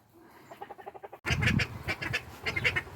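Call ducks kept in a backyard run with silkie chickens give a quick series of soft quacks, then louder, busier overlapping quacking and calls up close, with no talking.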